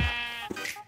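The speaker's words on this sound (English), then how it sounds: "I have the sheep here, so I think I should start farming. And yeah, hello there, sheep." Sheep bleating in the Minecraft video game, a short wavering bleat or two heard up close, with no talking.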